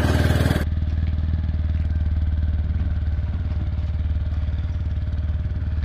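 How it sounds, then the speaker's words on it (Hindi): A TVS Apache RTR 160 4V BS6 motorcycle fires up after a brief burst of starter noise, then settles into a steady, close, throbbing idle with a fast regular engine pulse. "स्टार्ट करते हैं बाइक को।"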